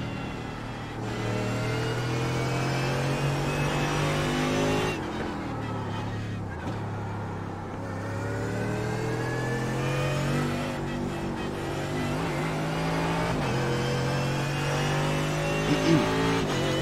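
A Mercedes GT3 race car in iRacing lapping the Nürburgring, its engine droning loud and close as it climbs through the gears with sharp shifts and lifts under braking, and someone talking throughout.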